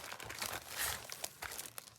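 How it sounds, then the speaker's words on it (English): Plastic packaging crinkles and tears in close, busy bursts while being unwrapped during a craft-supply unboxing, with a louder crackling surge near the middle and sharper rustles toward the end. "I don't think that rustling plastic is quite as satisfying as rustling paper"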